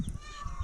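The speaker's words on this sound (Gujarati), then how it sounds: "ત્યાં મોર બોલે છે ને," A peacock calls from a farm near mango and neem trees, a brief honking cry heard faintly in the distance over outdoor wind noise.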